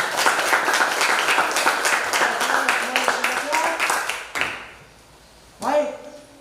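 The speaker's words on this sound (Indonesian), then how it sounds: "Tepuk tangan dulu untuk kelompok 4." A classroom claps for a student group, with dense, steady applause that fades after about four seconds, followed by a brief pause and then a voice.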